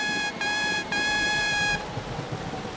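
A cartoon train sounds its horn in a bright, harmonic, tooting blast, three short honks in quick succession, close and loud over a soft rumbling background.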